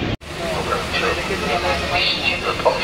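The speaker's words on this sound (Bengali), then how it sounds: "ঢুকে গেছে আমাদের ট্রেন প্রায়।" A passenger train rolls into Kamalapur railway station in Dhaka with a steady, rumbling roar, while voices and crowd babble sit on top of the noise.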